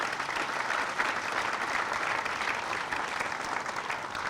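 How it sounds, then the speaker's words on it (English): An audience applauds at a laboratory ribbon cutting ceremony, a dense, even wash of clapping held at constant level for the whole stretch, somewhat distant and without voices on top. "So let's give all of you a big round of applause"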